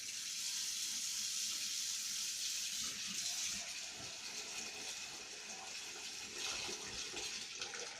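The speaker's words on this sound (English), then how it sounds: "We're gonna put some water in the pan." Tap water running steadily into a pan for washing red herring, a broad continuous splashing rush that stays fairly loud and even throughout, with no talk over it.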